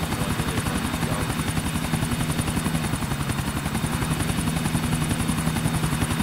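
Helicopter in the video game GTA 4 flying over water, its steady rotor thump and engine whine loud and continuous throughout, with no talk.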